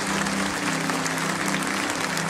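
A church congregation at PIB de Curitiba breaks into a dense, even round of applause to welcome new members, with a low steady hum beneath the clapping.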